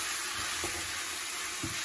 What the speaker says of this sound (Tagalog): gisa-gisa lang po natin siya